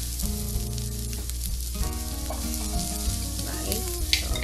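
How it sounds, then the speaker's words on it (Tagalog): Sliced ginger sautéing in oil with onions for ginataang smoked fish gives a steady, dense sizzle that runs unbroken throughout, with a faint tonal hum in the background. "Ginigisa ko din yung ginger para talagang lumabas yung katas ng mga spices dito."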